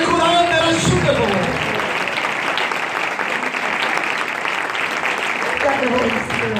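Congregation clapping in a church service, a broad, steady wash of applause that fills the room and continues evenly, with faint voices and music-like tones showing near the start and end.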